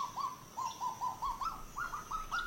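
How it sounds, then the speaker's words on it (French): A kagu in a New Caledonia park sings a rhythmic series of clear, hooting whistled syllables, repeated at a fairly even pace and moderately close, with no talking. "Le cagou mâle, lorsqu'il chante, on le reconnaît parce qu'en fait, il a 12 syllabes dans son chant"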